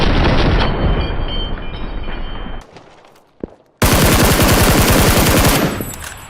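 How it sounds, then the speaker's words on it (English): Loud bursts of automatic gunfire from a PUBG match, a dense rapid rattle filling the first two and a half seconds, a short lull with a single sharp crack, then another sustained close burst. "these gunshots attracted other players"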